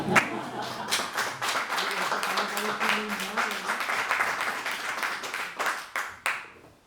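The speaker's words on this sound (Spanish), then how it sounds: "No prohibimos aplaudir, ¿eh? No prohibimos aplaudir." Audience applause at a book presentation event, a steady patter of many hands clapping for several seconds before thinning out, with some voices faintly under it.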